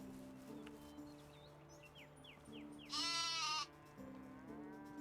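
Sheep and goats bleat in the video game Medieval Dynasty, one loud, close bleat standing out over quiet farm ambience, with soft birdcalls and low background music.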